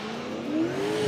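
A turbocharged LS-engined drift car revs hard during qualifying at the Wall 2018 event. The engine gives a loud, close roar that climbs steadily in pitch over about a second, and no voices are heard.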